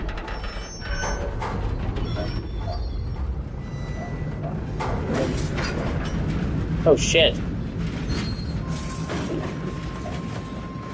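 A train rumbles past in the Mafia video game on PS5, heard as a sustained rolling clatter with mechanical rattling and squealing, loud and close, while someone speaks briefly over it.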